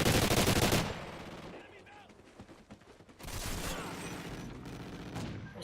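Gunfire in the video game Call of Duty: Ghosts, a loud blast burst at the start and another dense stretch of firing later, with quieter game noise between them.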